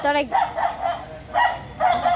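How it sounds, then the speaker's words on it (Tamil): A dog barks outdoors while chasing, with about three sharp barks spread across a couple of seconds, fairly close. "துரத்தி துரத்தி நாய் கொலைக்குது."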